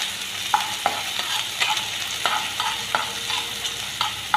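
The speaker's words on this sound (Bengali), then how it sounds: "এখন পেঁয়াজর কুচি ভাজা ভাজা করব" Chopped onion sizzles in hot oil in a home kitchen, cooking for a katla fish roe fry, with a steady crackling hiss broken by repeated sharp spatula scrapes and taps against the pan.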